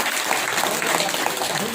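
Audience clapping at a Shrimad Bhagavat Katha religious discourse in Churu, steady dense applause throughout the short moment with no talking over it.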